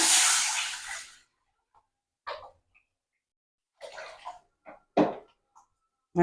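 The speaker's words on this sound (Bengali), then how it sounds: "ভাতের মাঠটা আমি ঝরিয়ে নিই" Starchy water pours off a pot of freshly cooked rice in a home kitchen, a loud rushing gush for about a second that stops abruptly, followed by sparse, quiet clinks and handling sounds.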